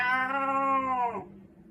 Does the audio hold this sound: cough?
no